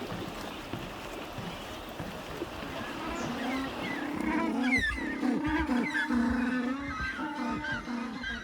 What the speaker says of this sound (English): along the path we run into some penguins. Lots of them.